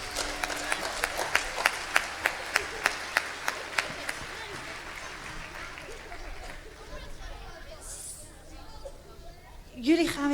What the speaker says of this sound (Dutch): Jongens, een daverend applaus voor deze toppers.